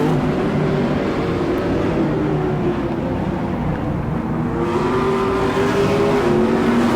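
Race car on an oval track during a charity race event, engine note droning loud and steady throughout with a rising pitch as it accelerates, no voices.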